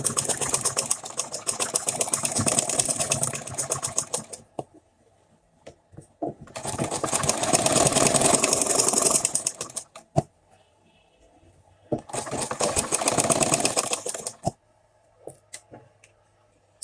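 A sewing machine stitches fabric for a bridal cap in three loud, rapid bursts of several seconds each, separated by quiet pauses with faint clicks and handling sounds.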